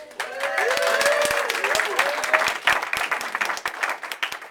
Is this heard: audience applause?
yes